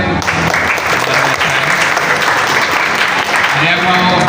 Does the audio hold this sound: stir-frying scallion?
no